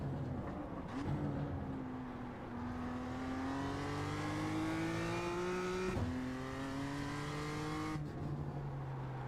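A BMW M2 accelerates hard at full throttle on the Tsukuba circuit, engine note climbing steadily through the gears with brief dips at each upshift, loud and close from inside the car.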